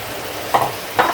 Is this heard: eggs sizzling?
yes